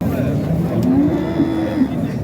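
Calves at an outdoor livestock market in Xaçmaz give a low, drawn-out moo over a steady background murmur of the crowded market.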